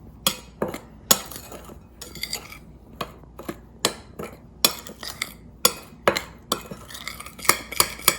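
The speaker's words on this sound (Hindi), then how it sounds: "इनको अच्छी तरह से मिक्स कर लें आप।" A spoon clinks repeatedly against a bowl while chili powder, oregano and other spices are mixed, giving a series of sharp, close, irregular taps with quiet gaps between.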